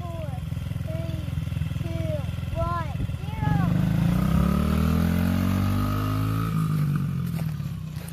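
Yamaha 50 dirt bike ridden by a five-year-old, its small engine droning steadily and rising in pitch as it revs, under an adult's encouraging voice with birdsong in the background.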